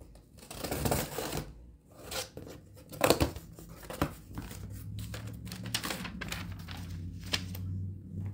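Scissors snip and rustle through packaging while unboxing Christmas ornaments and craft items, a few brief crisp cuts mixed with crinkling and handling noises close by, with no talking.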